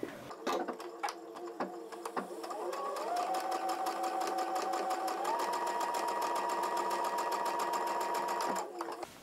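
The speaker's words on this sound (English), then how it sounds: "if I just go straight ahead and sew a normal seam, you can see how this works" A sewing machine with a standard presser foot runs a straight seam, a close, steady, rapid mechanical whirring and clatter that starts with a few slow stitches, then speeds up and holds an even rhythm before stopping.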